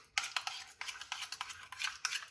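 Spoon mixing cauliflower with yogurt and salt in a bowl for crispy cauliflower fry, a quiet run of repeated scraping and clinking strokes, close and rhythmic, with no voices.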